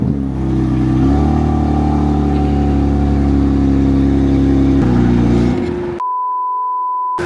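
A BMW E36 engine starts on the key and revs, a loud, steady near roar with a few rises in pitch, then cuts to a thin electronic whine.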